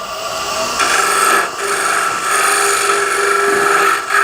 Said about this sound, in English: you can use a negative rake scraper or a regular scraper and just go in here